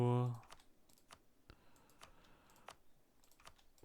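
Keys on a computer keyboard are pressed in scattered, light clicks, with a close, moderately quiet tapping rhythm that follows a brief voiced sound at the start.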